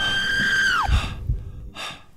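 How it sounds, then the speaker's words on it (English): A man lets out a short, high-pitched scream of fright that slides downward and cuts off, followed by heavy panicked breaths, recorded close while playing a horror dungeon game. "That was the most manly scream I've ever done."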